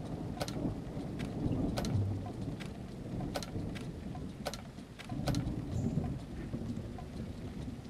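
Steady rain hisses in the video game Tribe: Primitive Builder, with distant thunder rumbling in slow swells and scattered drips ticking sharply over the continuous downpour.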